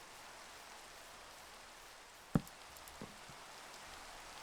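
Steady soft rain hiss falls in a Minecraft-style block game, a constant wash of noise with one sharp click and a fainter tap partway through, no voices.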